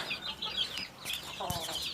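Hens cluck and chatter close by on a chicken farm, a series of short overlapping calls, with a faint bit of background noise.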